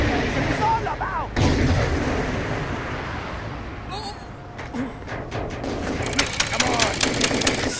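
Gunfire during a mission in Total Overdose, a GTA-style video game, with repeated shots and booms mixed with game sounds and people talking over the action.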